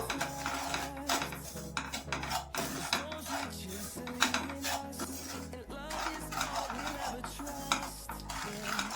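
Semolina (rava) stirred and dry-roasted in a pan over a medium flame for curd upma, steady scraping and rustling strokes running continuously, close and fairly loud, with no talking.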